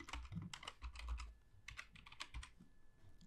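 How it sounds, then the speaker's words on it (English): Keys clacking on a computer keyboard as a Wi-Fi password is typed, a quick uneven burst of close, crisp taps with short pauses between clusters. "Now select your Wi-Fi and enter the password."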